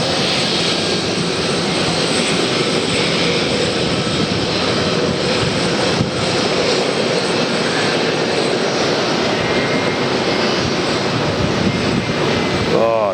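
A Northwest Airlines Boeing 757 airliner roars steadily at Atlanta airport, a loud, continuous broadband engine wash that holds evenly throughout with no break.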